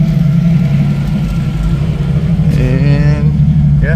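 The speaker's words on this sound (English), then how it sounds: "at least now she's idling again" A 1990 Jeep YJ with a 4.2L engine and carburetor idles steadily, a loud, even low rumble holding throughout, with a brief voice rising over it near the end.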